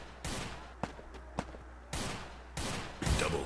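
Bursts of gunfire in a Free Fire Clash Squad match on the Kalahari map: several sustained volleys with sharp single shots between them, loud and close, with no talk over them.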